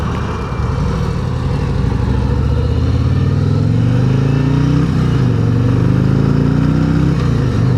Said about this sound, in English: Okay, we're in first gear.